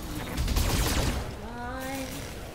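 Rapid burst of mech weapons fire in a BattleTech battle, a dense crackling volley swelling then fading into a whining, warbling tone, with voices faintly underneath.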